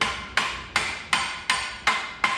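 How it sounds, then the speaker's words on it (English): A hammer taps a center pin through a leaf spring on a Ford E-Series van during an add-a-leaf install, with seven evenly spaced sharp metallic strikes, each ringing briefly before the next. "and just tap that the rest of the way through."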